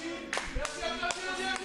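A few scattered hand claps from an audience honouring François Ifono at a Guinean media event, four sharp, irregular slaps spread over a steady bed of voices and background tones, fairly close but not loud.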